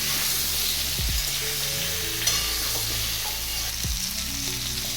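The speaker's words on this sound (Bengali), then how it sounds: "পটলগুলোকে লাল লাল করে ভেজে নিলাম।" Pointed gourd (potol) frying in a pan, a steady hiss of sizzling oil with occasional scrapes and knocks of a spatula stirring the pieces.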